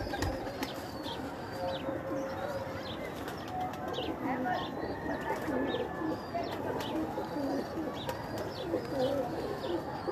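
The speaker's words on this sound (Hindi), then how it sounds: "ये जी हमारे 35 वाले कबूतर हैं जनाब" Domestic pigeons on a rooftop cooing in soft, repeated low calls amid a busy outdoor bird chorus, with occasional chirps and wing flaps.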